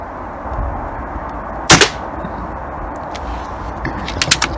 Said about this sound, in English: Now it's shooting dead straight.